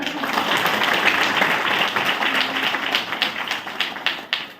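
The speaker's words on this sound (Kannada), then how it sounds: "ಚಪ್ಪಾಳೆ" A church congregation claps together, a dense, close burst of applause that carries on steadily and turns into rhythmic clapping toward the end.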